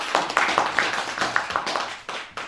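A small group claps at a Ramadan religious study gathering, with quick, uneven hand claps close by that thin out toward the end.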